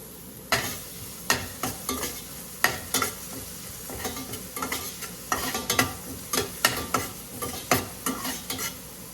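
Onions fry with garlic in vegetable oil while a spoon stirs the pan. Steady sizzling runs under repeated sharp scraping strokes, close and fairly loud, with no voices.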